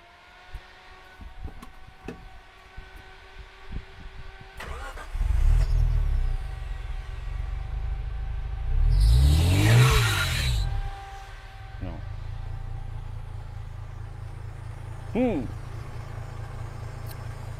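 A Suzuki Vitara with a swapped V6 engine fitted with a Speedtronic ECU cranks and starts, then revs up once and settles into a low rumbling idle with another short blip, heard nearby.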